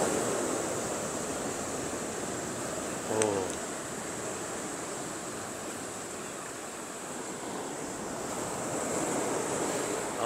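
Ocean waves wash steadily over the tide pools at Little Corona Beach, a continuous rushing surf with wind across the microphone and a brief sharp sound near the start.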